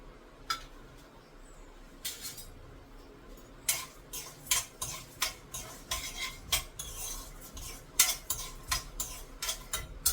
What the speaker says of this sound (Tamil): எண்ணெய் சுட்டுடுத்து நான் வேர்க்கடலை, தனியா ஆட் பண்ணிக்கிறேன்.